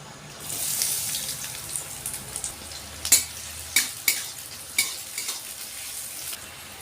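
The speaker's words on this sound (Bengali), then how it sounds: "কড়াইয়ে তেল দিয়ে দিলাম। তেল গরম হয়ে গেছে, দিয়ে দিচ্ছি পেঁয়াজ" Sliced onions hit hot oil in a wok and crackle in a steady sizzle, followed by a run of sharp spoon-on-metal stirring knocks and scrapes close up.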